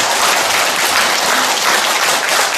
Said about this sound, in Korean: 우리 성지 안에 계신 예수님께 힘찬 박수를